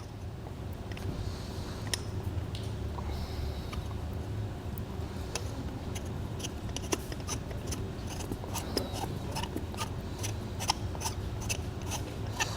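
A plastic collar is threaded onto a tire balancing beads injector pump, making a string of close, crisp ratcheting clicks and scrapes over a steady low background hum.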